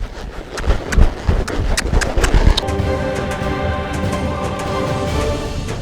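Hooves of a horse clip-clop in a quick trot during reining training for vaquejada, sharp repeated strikes over the first half before fading into a steadier, blurred background rumble.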